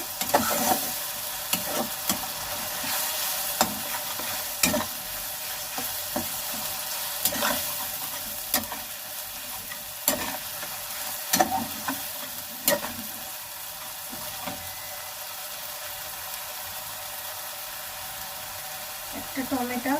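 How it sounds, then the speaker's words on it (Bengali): Onions frying in a pan with ginger garlic paste for biryani, a constant close sizzle broken by repeated scraping stirs and clinks of a spoon against the pan. "আদা রসুনের পেস্টটা দিয়ে দিয়েছি, এবার পেঁয়াজের সঙ্গে ভালো করে মিক্স করে নেব।"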